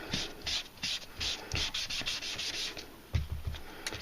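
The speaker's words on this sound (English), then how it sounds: "Just rubbing it along the grain, and then it looks like a weathered piece of wood." Sahara Sand ink rubbed with a sponge along the grain of a card, giving soft, close, irregular scrubbing strokes with a few light taps, no voice.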